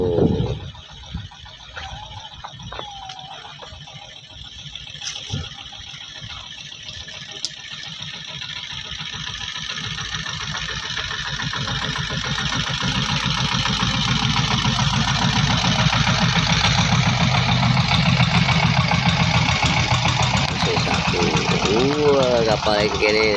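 A boat engine on a river starts up and grows louder and steadier, settling into a continuous close, mid-pitched running drone, with people talking over it at the start.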